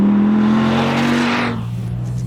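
An SRT Viper sports car roars loudly on a race track, its engine holding a steady high drone before the pitch drops sharply as it passes, close and dominant.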